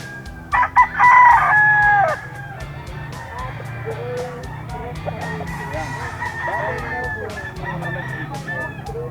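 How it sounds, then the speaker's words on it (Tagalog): A rooster crows loudly and close by near the start, with clucking chickens and background chatter filling the rest. "yung manok ni Boss Eric dito sa grotto."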